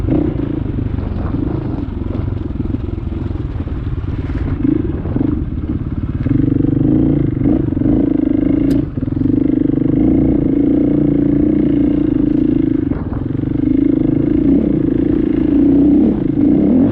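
Dual sport dirt bike engine riding a desert trail near Caliente, Nevada: a steady loud single-cylinder drone that rises and falls with throttle changes, plus wind buffeting and occasional clatter, continuous throughout.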